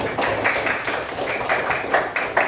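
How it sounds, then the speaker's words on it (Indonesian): Students in a classroom clap for the first group, a fairly steady patter of hands with rhythmic beats running for a couple of seconds, no speech over it. "Tepuk tangan dulu buat kelompok 1"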